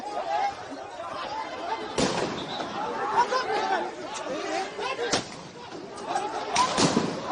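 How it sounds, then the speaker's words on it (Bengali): Several sharp gunshot-like bangs ring out near a press club during a protest rally as police move in, spaced a few seconds apart over loud crowd chatter and shouting. "বহু গুলির শব্দ শুনতে পাচ্ছেন আপনারা"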